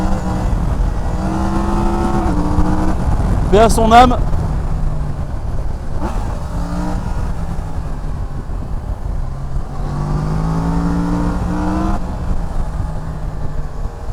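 A 2019 Yamaha MT10 SP motorcycle engine rises in pitch through the gears with quickshifter changes, loud and close under wind roar, a rider speaking briefly over it.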